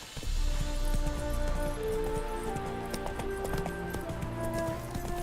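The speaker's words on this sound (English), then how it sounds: "Run, Roach." Roach the horse gallops in The Witcher 3 with rapid, rhythmic clip-clop hoofbeats, close and steady, over a faint game background, with no talk.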